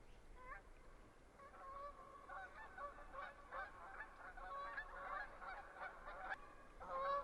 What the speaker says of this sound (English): I don't know if you can hear the geese flying over.